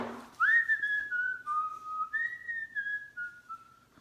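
A person whistles a wavering tune in several drawn-out, sliding phrases, clear and fairly close, with no talking over it.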